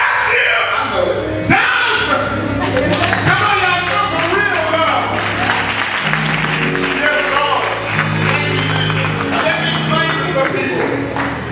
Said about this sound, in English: Let's clap our hands with these who want to bless our hearts tonight